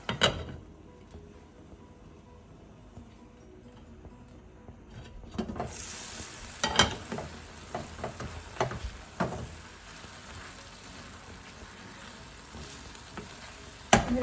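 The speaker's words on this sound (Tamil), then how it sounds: "மூடி போட்டு நாங்கள் 2 நிமிஷம் அவிய விடுவோம்." Bitter melon leaves and shrimp cook in a covered pan, a low muffled simmer giving way after several seconds to a brighter steady sizzle with scattered sharp pops and clicks throughout.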